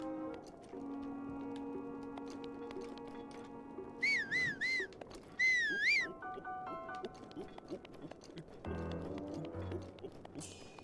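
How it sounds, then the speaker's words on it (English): A loud whistle with warbling, rising-and-falling pitch sounds in the video game Zelda Breath of the Wild, two sharp bursts over quiet game ambience with tones and ticks, followed by brief stepped chime notes. "that whistle was loud enough it put everybody on alert"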